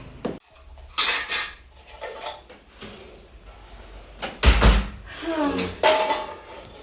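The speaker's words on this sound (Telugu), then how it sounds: "ఇప్పుడైతే గిన్నెలన్నీ తోమేస్తున్నాను" Dishes, pots and pans are scrubbed and washed by hand at close range, with irregular bursts of clattering metal and clinking cutlery between quieter scraping pauses.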